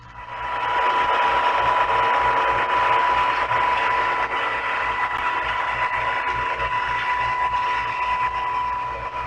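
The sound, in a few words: PT boat engine and gear whine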